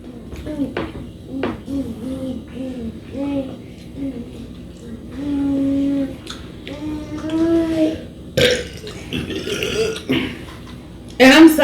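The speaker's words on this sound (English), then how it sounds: "And I'm sorry if I'm burping." Loud, close burps break out repeatedly while eating during a seafood boil mukbang, some drawn out and moaning, mixed with voices talking and light handling noises.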